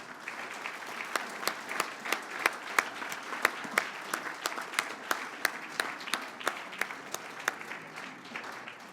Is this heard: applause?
yes